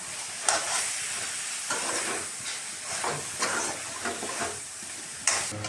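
Crushed garlic is dropped into a simmering dry fish curry, giving a soft frying sizzle broken by several short scraping stirs, fairly quiet and close.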